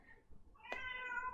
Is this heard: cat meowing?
yes